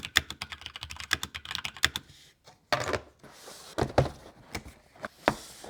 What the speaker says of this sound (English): I'll also do a sound test to show you guys what it sounds like for each of these keyboards as well.